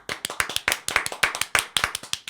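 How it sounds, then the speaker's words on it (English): A small group claps in sharp, evenly spaced bursts, each clap distinct and close, forming a brisk rhythmic beat rather than a dense ovation. "Can we just have a moment of applause for her bravery?"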